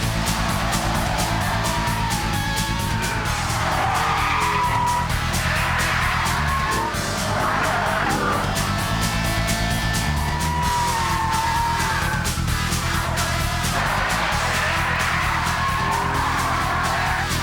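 A TVR sports car skids hard, with loud, continuous tyre squeal that wavers and swoops over a roaring engine, close and sustained.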